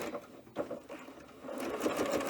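A domestic sewing machine stitches a seam in knit fabric for a dress, a steady close whirring hum that briefly dips and then runs on continuously and a little louder.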